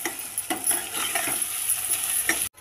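Ginger garlic paste being stirred into a pan of dried fish and tomato curry, a steady sizzle of frying with repeated scraping strokes of a spoon against the pan, close and continuous without talk.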